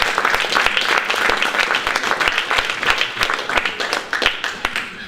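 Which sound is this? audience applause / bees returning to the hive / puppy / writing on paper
audience applause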